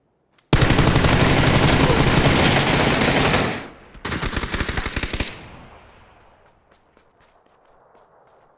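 Rapid automatic gunfire from a PUBG duo match, loud and close, a long sustained burst followed by a shorter second burst, then fading to quieter distant shots and footsteps.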